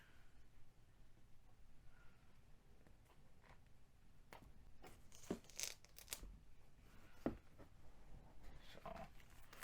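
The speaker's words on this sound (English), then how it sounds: "So we'll unwrap them. And we'll unwrap this one." OKnife pocket knife packaging is unwrapped up close with quiet tearing, crinkling and rustling of paper or plastic in scattered bursts, faint overall.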